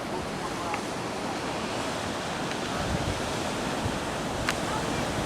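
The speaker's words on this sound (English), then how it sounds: "Wow, the rough water river." Rough river water churns below a cliff in Barbados, a steady, loud roar of rushing water mixed with wind buffeting the microphone throughout.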